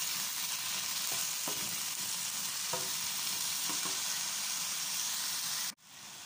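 Cauliflower and carrot sauté in a hot frying pan, giving a steady, loud, close sizzle with a few scraping stirs. Near the end the sizzle cuts off abruptly.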